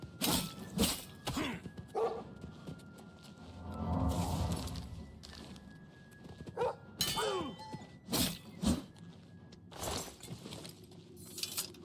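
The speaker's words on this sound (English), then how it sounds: "Make the mean doggy stop." A hostile dog barks in bursts inside an Oblivion Remastered dungeon, sharp separate woofs interleaved with a growling stretch, clinks and thuds from gear and the game world around it.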